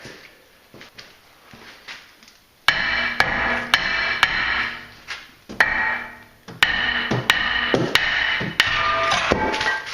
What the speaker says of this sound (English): Bigger hammer always gets them off.